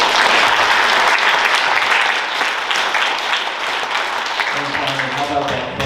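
A concert audience claps steadily in a dense, loud wash of applause that carries on throughout, thinning slightly toward the end as a voice starts to come through.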